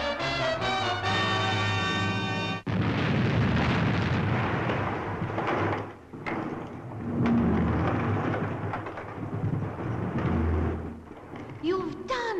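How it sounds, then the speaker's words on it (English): A loud, rumbling explosion bursts in after a brief tonal opening in an episode of the puppet science-fiction series Fireball XL5, rolling on as a heavy, roaring blast for several seconds before slowly easing off. "Come on, explode!"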